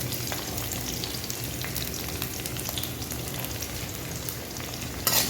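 Broad beans sautéing in hot oil, giving a dense, even frying hiss with soft stirring underneath, close and steady, with a short louder scrape near the end and no talking.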